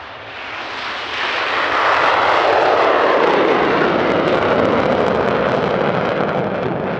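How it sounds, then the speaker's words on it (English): A Saab Viggen jet fighter flies past at a Swedish Air Force airshow. It makes a loud, broadband jet roar that swells over the first two seconds and then holds steady and close. "The Viggen was an aircraft of searing performance, capable of very high speed, high altitude flight"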